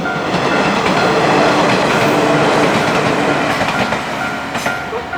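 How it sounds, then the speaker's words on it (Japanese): A JR East train on the Joetsu Line passes a talking railroad crossing, its wheels thumping and clacking loudly and close for the whole stretch, with no voice audible over the rumble. "列車が来ます。"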